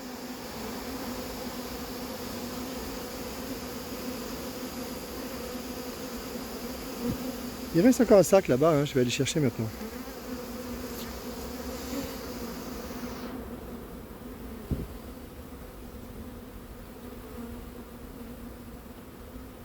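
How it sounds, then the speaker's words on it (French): A huge swarm of about 35,000 to 40,000 honeybees drones continuously and close by while being hived. Someone speaks briefly partway through, and the buzzing carries on evenly. "Encore un paquet d'abeilles énorme"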